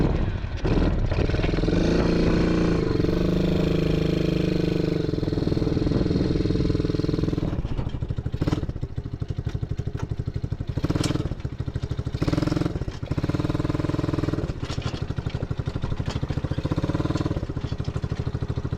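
A quad ATV engine runs steadily up close, a loud continuous rumble with a low throb, shifting in pitch partway through as it idles and works.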